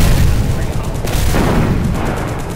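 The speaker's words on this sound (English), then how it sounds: "Look out for the pumpkin bombs!" Pumpkin bomb explosions staged in a Spider-Man fan film, a dense roar of booming blasts and crackling gunfire-like bursts sustained close and loud for the whole moment.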